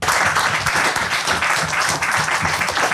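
Sustained applause from schoolchildren, steady and dense clapping filling the room for the whole stretch.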